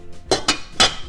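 A metal lid clanks onto a pot, three close, ringing knocks in quick succession, fairly loud and near, with no talking.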